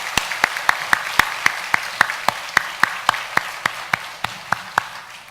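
A congregation claps during a Sunday morning church service. Sharp, evenly spaced claps ring out in a steady rhythm over a softer bed of continuous applause.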